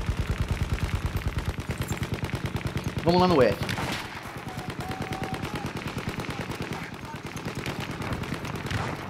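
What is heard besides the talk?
gunfire in video game Battlefield 1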